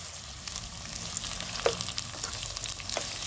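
Jalapeño escabeche vegetables with salt are stirred in a hot pan, giving a steady frying hiss with a few scraping spoon strokes, no voices.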